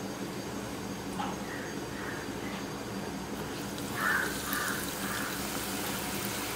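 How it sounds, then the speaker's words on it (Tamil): Masala peanuts go into hot frying oil a few at a time, raising a steady, fairly quiet sizzle with a brief burst of bubbling partway through; no one speaks. "எண்ணெய் காஞ்சிட்டு இப்போ வந்து நம்ம இந்த கடலையே போட்டுருவோம்"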